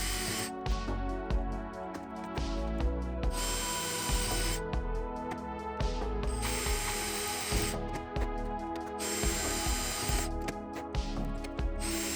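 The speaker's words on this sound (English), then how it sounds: "I'll go ahead and get these all drilled" Power drill boring a series of holes in a RANS S-21 aircraft tailcone, steady whining bursts repeated in several clusters with short pauses between, loud and close.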